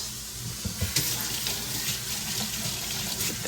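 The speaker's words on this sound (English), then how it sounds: "I'm gonna wash my hands" Water from a kitchen tap runs steadily into a sink while hands are washed under it, a close continuous splashing rush with small uneven bumps as the hands move through the stream.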